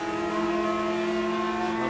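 Onboard engine note of a race car on the long back straight at Circuit of the Americas, a loud sustained high-revving drone with strong harmonic tones, holding steady at speed, heard alone without talk.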